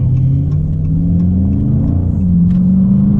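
A 2019 Dodge Charger Scat Pack accelerates hard in sport mode, its engine rumbling loud and close. The pitch climbs steadily and then drops briefly as it shifts quickly into the next gear.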